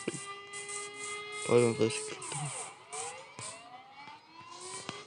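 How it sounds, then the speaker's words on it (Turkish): A wailing ambulance siren rises and falls in the background while a voice speaks briefly over it. "bu ambulans sanki ambulans gibi ses çıkarıyor."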